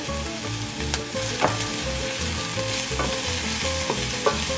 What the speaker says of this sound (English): after a minute or 2 of cooking the onion and the jalapeno